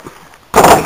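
A single loud gunshot cracks out close by after a short quiet stretch, its sharp burst briefly filling the air before fading.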